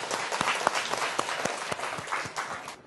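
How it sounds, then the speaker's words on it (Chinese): A classroom of schoolchildren applauds a classmate, a brisk burst of many small hands clapping together at close range, steady and fairly loud for a few seconds with no talk over it. "让我们为这个聪明的孩子鼓掌"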